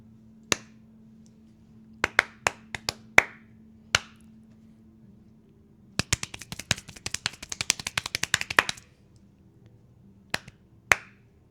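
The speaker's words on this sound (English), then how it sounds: "This is a segment we like to call Just Some Claps." Sharp hand claps sound alone in a quiet room: scattered single claps, then a rapid burst of dense clapping, then a few final isolated claps.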